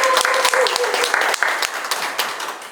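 Applause for the secretary of a neighborhood resident council at a Jungnang-gu community meeting: dense, steady clapping from a crowd, loud and close, tapering slightly toward the end.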